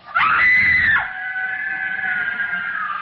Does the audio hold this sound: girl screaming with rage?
yes